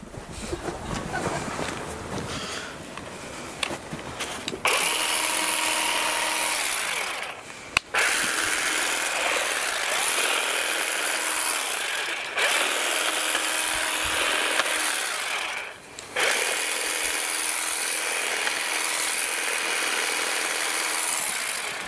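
A Makita 18V cordless lawn clipper trimming grass, a steady buzzing, whirring drone that runs loud and continuous, stopping briefly a few times and restarting, close to the listener.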